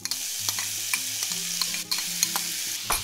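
Vegetables for an omelette frying in a hot pan with no oil added, close sizzling broken by repeated sharp scrapes and clatters of stirring.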